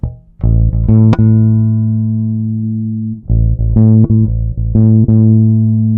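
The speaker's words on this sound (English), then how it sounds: "now I'm going to turn down some of the treble tone, see how that sounds." Electric guitar with its treble tone turned down, sustained low notes and chords ringing loud and close, a warm dark tone across two strummed phrases with a short gap between them.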